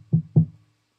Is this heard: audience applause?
no